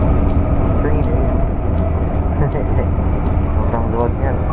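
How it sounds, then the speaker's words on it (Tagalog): Interior of a crowded LRT train in motion, a loud continuous rumbling roar with rail clatter and faint squeals, with voices heard in the carriage. "Train eh."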